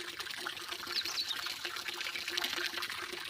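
A water tap runs into a cattle water trough, a steady faint trickle and pour of water continuing throughout with no talk.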